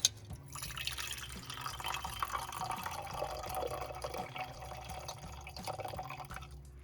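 Liquid from refining 12-karat gold-filled scrap is poured off into another container, a steady trickling and splashing stream that carries on for several seconds, close and moderately loud.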